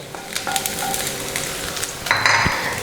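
Garlic and green chilli sizzle in hot oil for egg fried rice. A steady frying hiss runs throughout, and light clinks of a utensil against the pan cut in, with a louder burst of sizzling near the end.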